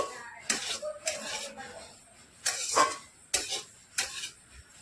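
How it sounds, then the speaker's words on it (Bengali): Semolina being stirred with other ingredients in a bowl, heard as a series of separate close scraping and clinking strokes against the bowl, with brief pauses between them and no talking. "এখন সুজির সঙ্গে আমি সব একটু ভালো করে মিশিয়ে নিচ্ছি"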